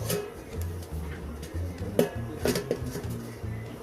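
A lid set down on a pot of chicken biryani gives a couple of short metallic clanks in the middle, over a steady low background hum.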